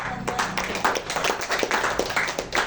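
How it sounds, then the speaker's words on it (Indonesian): People clap at a business commitment event, a loose patter of hand claps with uneven, overlapping bursts at moderate loudness, while faint voices murmur underneath. "Tepuk tangan"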